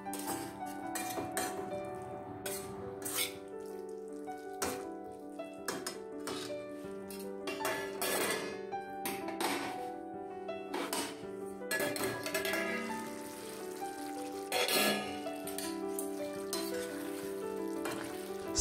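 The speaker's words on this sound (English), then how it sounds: "Now add the prawns. Stir well." Prawns stirred while frying in a pan: repeated metallic scrapes and clatters of a spatula against the pan over a steady sizzle, with background music playing throughout.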